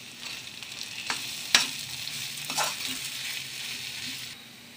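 A spoon stirs potato upma curry with salt and turmeric in a hot pan, making a steady sizzle with scraping strokes and a couple of sharper knocks against the pan, close up and without talk.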